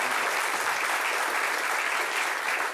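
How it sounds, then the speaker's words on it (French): Steady, dense applause from a studio audience at a French-language television talk show, filling the whole stretch at an even, loud level with no voices over it. "On peut l'applaudir très fort"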